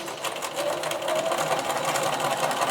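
A sewing machine running steadily as it stitches around the edge of a doll quilt, a close, continuous rapid whirring chatter that holds an even pace throughout, with no speech.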